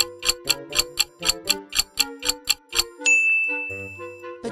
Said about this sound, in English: It's the menu start sound from R-Type